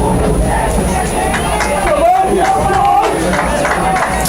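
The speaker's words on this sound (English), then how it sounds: "Crowd getting into it. Nice crowd here today at Gardner Field." Crowd noise at a boys' high school lacrosse game at Gardner Field, a busy hubbub of voices and scattered cheers with people talking nearby throughout.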